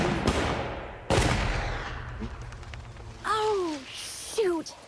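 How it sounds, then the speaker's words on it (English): Gunshots from target practice in the woods: two sharp, loud cracks ring out early with a long fading tail, followed later by brief descending whistling tones. "I was just brushing up my target practice in the woods."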